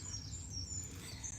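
Recorded birdsong played back for cats indoors, thin high chirping whistles held faintly over a steady low room hum, with no talking.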